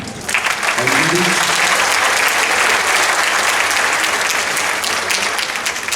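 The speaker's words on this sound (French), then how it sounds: "On peut l'applaudir quand même." An audience at a company staff assembly conference applauds Florian, a dense, steady wash of clapping that runs unbroken and loud throughout. A low voice murmurs briefly near the start.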